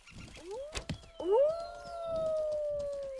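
Wolves howl in a forest in the Mortal Online 2 video game, several long rising howls overlapping, fairly close and clear, with short yips early on and no talk over them.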